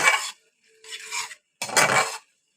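Egg chilli with garlic leaves is stirred and tossed in a pan in three separate scraping bursts. The sounds are close and scratchy, with short silences between them and no talking.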